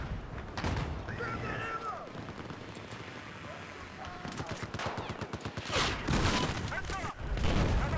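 Bursts of automatic and single-shot gunfire crack through a Battlefield 4 Conquest match, with rapid volleys and sharp isolated reports clustering near the end, while a player's voice talks over the shooting.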